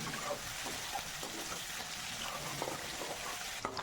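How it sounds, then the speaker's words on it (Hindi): Chicken fries in oil with a dense, constant sizzle and crackle, close and steady, with a few faint stirring scrapes and no talking. "चिकन को थोड़ा सा अच्छे से फ्राई करेंगे कलर चेंज होने तक"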